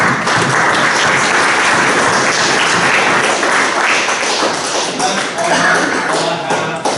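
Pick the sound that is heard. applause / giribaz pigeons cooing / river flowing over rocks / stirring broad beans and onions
applause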